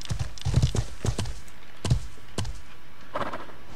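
Horse hooves clip-clop in the medieval game Life is Feudal, a run of sharp, close thuds in an uneven trotting rhythm that slows and fades, ending with a soft rustle.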